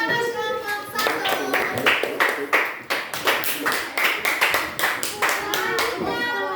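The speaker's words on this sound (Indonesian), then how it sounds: "ya tepuk tangan kelompok 1." A classroom of children claps for a group, a brisk, uneven burst of close hand claps with chatter and voices mixed in.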